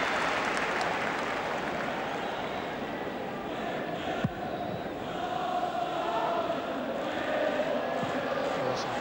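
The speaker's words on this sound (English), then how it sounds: "Applause for Miller for the back pass" A stadium crowd at a Scotland v Northern Ireland football match applauds, a dense, steady wash of clapping and crowd noise that holds level throughout with one brief sharp knock midway.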